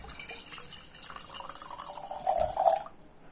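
Water pours into the base of a cafe-style hookah, a soft trickle that builds into a rising, gurgling fill toward the end. It is close and moderately loud, then stops abruptly.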